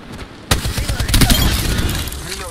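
Dense, loud bursts of gunfire crackle in an Apex Legends firefight, breaking out sharply after a brief quieter moment and continuing as a sustained, overlapping barrage.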